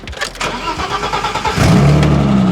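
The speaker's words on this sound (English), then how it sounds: "We're gonna be jump starting my buddy's car because it is dead" A dead car engine cranks over briefly on a portable jump starter, then catches and settles into a steady, close idle.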